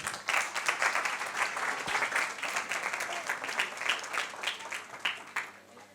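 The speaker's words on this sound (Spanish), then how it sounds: "Fuerte aplausos." Warm audience applause fills a room at a book presentation, steady dense clapping for several seconds before tapering off toward the end.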